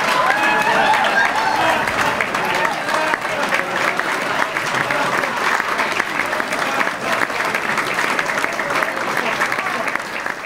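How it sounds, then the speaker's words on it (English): A large crowd at a youth theatre celebration applauds loudly and steadily, a dense wash of clapping with scattered cheers that holds for the whole stretch. "give a very big round of applause"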